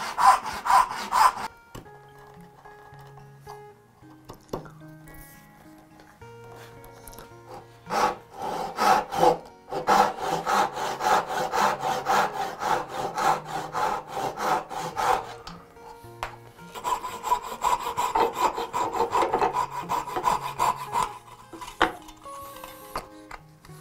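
A hand saw cuts dovetail kerfs in wood with repeated rhythmic back-and-forth rasping strokes in several close bursts separated by short pauses.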